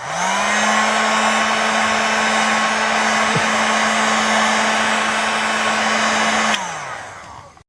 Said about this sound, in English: you just want to heat the glue up with a heat gun to get it to all even out